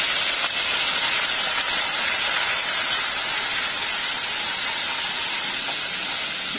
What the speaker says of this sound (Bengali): এই যে ফোড়নটা আমার ভাজা হয়ে গেছে, এতে আমি অল্প করে জল অ্যাড করব,